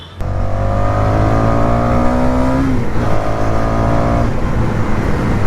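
A Honda NS motorcycle fitted with a bent exhaust pipe revs hard and close, its engine note holding steady with a dip and swell midway before climbing again, loud and continuous with no talking.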